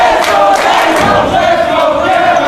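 A rabid wrestling crowd roars and cheers loudly and steadily throughout the Steen vs Daniels match, a dense wall of voices with no break.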